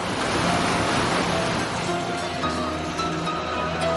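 Sea waves on the Mediterranean coast at Burriana, Spain, wash in as a constant broad hiss and rumble, loud and unbroken, easing slightly toward the end.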